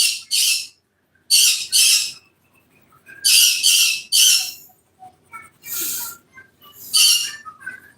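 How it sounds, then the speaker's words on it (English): Pet birds squawking excitedly indoors in a series of loud, harsh, broadband shrieks, mostly in pairs and bursts with short gaps between, close to the microphone, with faint background sound beneath. "I do have Elmo going in the background, which is what my birds are going so bonkers out about."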